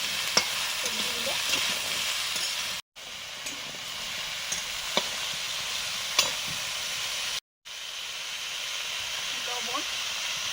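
Vegetables frying in a pan at home, with a steady loud sizzle and hiss and repeated stirring scrapes and clicks close up, broken by two brief silent gaps.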